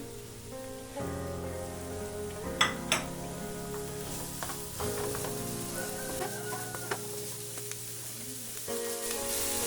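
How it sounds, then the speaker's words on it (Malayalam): Chopped onions sizzle and sauté in coconut oil in a pan, a steady crackling fry with a few sharp spatters and scraping stir sounds, close and clear, with no talking. "കുറച്ചും കൂടി വെളിച്ചെണ്ണ ഒഴിച്ച് കൊടുത്തിട്ട് ഈ ഉള്ളി ഒന്ന് വഴറ്റിയെടുക്കാം"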